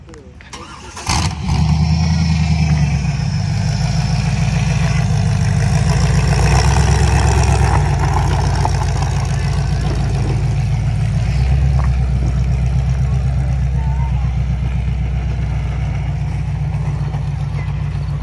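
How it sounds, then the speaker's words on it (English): Front-wheel-drive demolition derby cars roll into the pits at a county fair derby, a loud sustained engine rumble with a sharp start near the beginning, steady idling and droning throughout, and people talking over it. "More front wheel drives pulling in as we speak."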